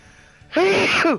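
A single sharp sneeze bursts out after a quiet moment, close and loud, then cuts off quickly.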